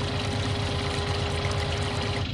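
Water pours steadily into a tank in the farming game Farming Simulator 19, a loud continuous gushing over a low engine idle hum, with no talking.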